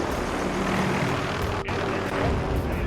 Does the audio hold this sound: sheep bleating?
no